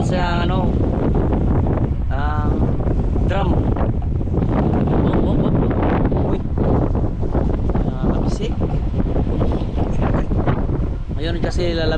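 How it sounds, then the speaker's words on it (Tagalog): Strong gusts buffet the microphone in a continuous rough roar, while someone talks over it at length in Tagalog. "Lakas ng hangin dito mga kabisig."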